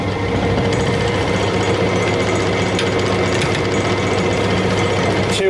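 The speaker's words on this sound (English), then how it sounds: "I'm going in very gently with the round carbide cutter, just taking it a little bit at a time" A yew bowl spinning on a woodturning lathe while a round carbide cutter takes light, gentle cuts, giving a loud, continuous motor drone with a dense, even scraping texture and no speech.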